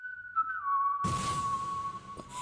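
A single steady whistled tone holds on, slightly wavering, then continues over a sudden wash of rushing background noise.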